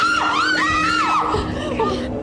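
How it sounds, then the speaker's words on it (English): A person screams in fright during a nighttime ghost hunt, a loud, high, wavering shriek with several rising and falling cries, followed by lower shouts. "before I know it, I jumped up and screamed"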